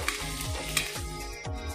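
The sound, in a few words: dried red chillies frying on low flame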